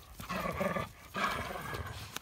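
Dogs growling and snarling loudly during rough play, two sustained growling bursts close up with short breaks between them and no talk.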